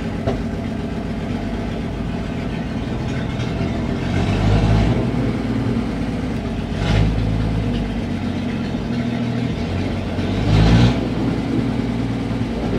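An International 1200A pickup truck engine runs steadily with a low rumble, rising in a few short revs as it drives, loud and close, with no talking.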